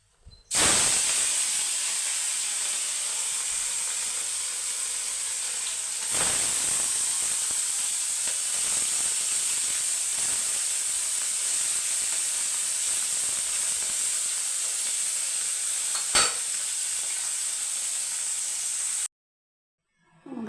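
Fish dropped into hot oil in a pan, setting off a loud, close, steady hiss that surges after each addition and runs for about twenty seconds before cutting off abruptly, no talking.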